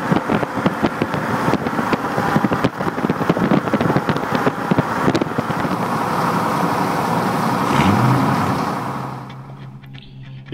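A 1971 Ford Mustang Fastback drives past close by, its engine noise loud and steady with heavy wind rush over the microphone, swelling then fading away near the end.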